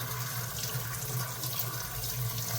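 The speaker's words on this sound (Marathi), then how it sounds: "तर हे मग हे ह्या पद्धतीने सगळं आपण आता पहिलं पाण्याने मी धुवून घेते" A tap runs steadily into a sink while a cooking vessel is being rinsed and cleaned, giving a constant, close rushing of water with no talk.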